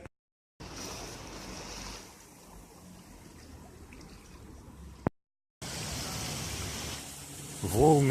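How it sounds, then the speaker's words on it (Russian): Sea waves wash against a pier by a fort in Larnaca, Cyprus, at night, a continuous rushing surf with wind noise, cut by brief silent gaps, and a voice briefly at the end. "Волны появились, очень частые такие волны."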